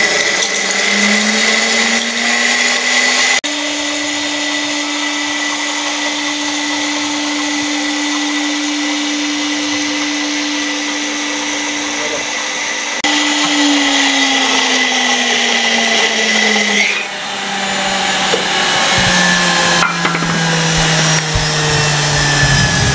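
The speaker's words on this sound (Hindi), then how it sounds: "इसको हम ग्राइंड करते हैं।" An electric grinder whirs loud and close as it grinds spice masala into powder, a continuous motor drone whose pitch slowly shifts over the whole run and briefly dips near the end, with no voices.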